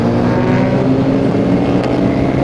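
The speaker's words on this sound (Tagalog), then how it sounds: "Maraming motor ha." Several motorbikes on a downhill road heard from a Yamaha XSR900 rider's helmet view, a loud continuous engine roar with wind rush, close and steady with no talk.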